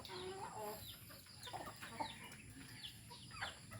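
Chickens cluck and squawk nearby in soft, intermittent bursts, with a faint crow-like call among them.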